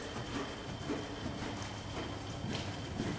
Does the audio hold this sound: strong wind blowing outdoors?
no